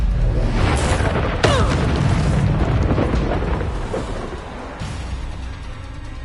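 Bombarda explosion spell in Hogwarts Legacy, a series of booming blasts and rumbling bursts layered over continuous battle noise, loud and close.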